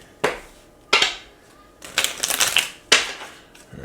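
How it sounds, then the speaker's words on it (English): Tarot cards shuffled by hand close by: four crisp papery riffling bursts, each a sharp attack that fades quickly, with short quiet gaps between and no voices. "Let me just do a quick shuffle"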